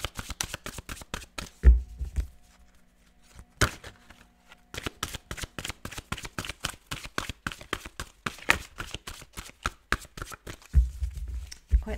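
Large tarot cards being shuffled by hand, a rapid run of crisp riffling taps close to the listener, broken by brief pauses and a couple of soft thumps as the deck is squared.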